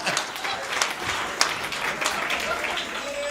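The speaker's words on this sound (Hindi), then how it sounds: "हाथ उठा के ताली बजाई जोरदार एक बार।" An audience applauds at a Hindi comic poetry gathering, with a steady wash of crowd clapping at moderate loudness throughout.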